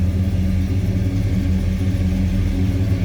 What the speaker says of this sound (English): I think we got that 343 warmed up a little bit now. Let it sit and idle.